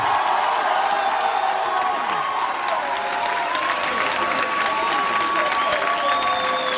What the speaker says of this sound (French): de vous applaudir profondément parce que votre mobilisation est une déclaration de guerre à l'impérialisme